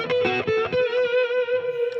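A distorted electric guitar with Satch Track neck and Mo' Joe pickups rings out loud and sustained, a few strummed chords settling into a held, soaring tone with a touch of effects.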